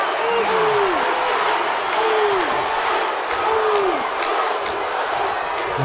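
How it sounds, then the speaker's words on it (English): Wrestling arena crowd in the video game WWE 2K26, a dense roar of cheering with rising whoops and shouts over it, loud and continuous throughout. "listen to this crowd."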